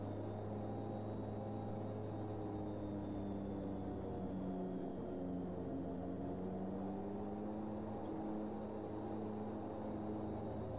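DHC-6 Twin Otter propeller engines taxiing in the Prepar3D flight simulator, a steady droning turboprop hum with layered tonal whine, continuous and even throughout, no voices.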